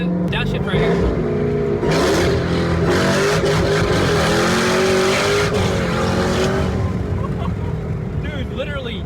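A 1000 hp Jeep Trackhawk engine roars loudly and continuously, revving through a downshift, with talk heard over the cabin noise.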